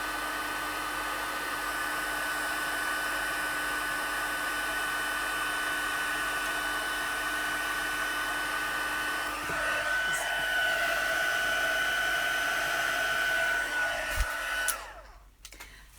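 A heat tool blows steadily for about fourteen seconds while embossing powder melts on a stamped card. The whir stays loud and even, then cuts off near the end.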